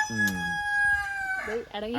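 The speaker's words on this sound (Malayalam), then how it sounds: "വീഡിയോ എടുത്താലും നമ്മുടെ വീട്ടിലെ കോഴി കൂവും" A household rooster crows once nearby, a loud drawn-out cock-a-doodle-doo that fills most of the moment before trailing off, with a brief clucking tail at the end.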